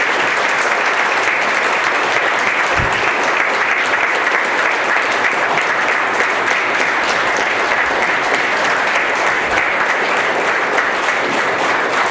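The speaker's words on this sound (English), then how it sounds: "I'm humbled by your claps." Sustained loud applause from a large audience, dense and steady clapping throughout with no pauses.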